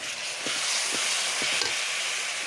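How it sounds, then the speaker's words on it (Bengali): Onions fry in a pan over a clay stove, making a constant dense sizzle with a few soft taps of a utensil scattered through it. "পেঁয়াজটা দিয়ে এখন পেঁয়াজটা ভাজা হয়ে গেছে"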